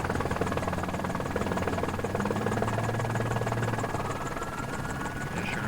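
A police helicopter circles over a nighttime bus pursuit by the California Highway Patrol and LAPD, its steady rotor drone and engine buzz filling the scene continuously at moderate distance, with no talk.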